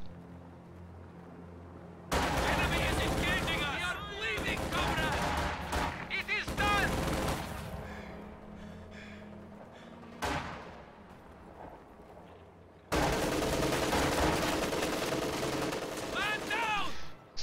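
Machine gun fire from a Kubelwagen in a World War II strategy game, with dense bursts of rapid shots in several long bouts and quieter gaps between them, alongside distant battle noise.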